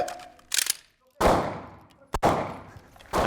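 Gunshots fired at an Israeli shooting academy, three sharp loud cracks each followed by a long ringing echo, close and unaccompanied by talk.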